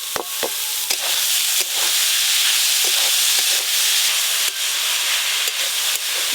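Boiled banana flower is stirred into spices in a hot pan, with a steady loud sizzle broken by repeated sharp scrapes and clacks of a spatula.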